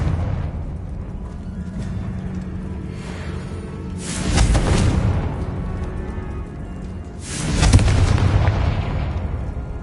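Confringo fire spell explosions in the Hogwarts Legacy game, two loud booming blasts a few seconds apart rising above a low rumbling background of game sound.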